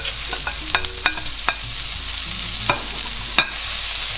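Onions and garlic sizzle steadily in a frying pan for pork adobo, with loud crackling and several sharp clinks and scrapes of a utensil stirring.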